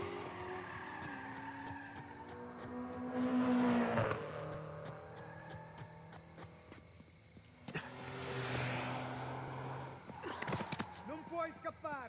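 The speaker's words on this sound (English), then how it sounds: "I hear fast cars." Game car engines and tire skids whoosh past twice amid background game sounds in Uncharted 4 on PS5, with someone talking over them.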